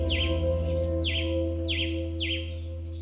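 Birds sing in the Los Cedros cloud forest of Ecuador, with repeated high, swooping calls at a steady rhythm over a constant hum of insects and forest ambience.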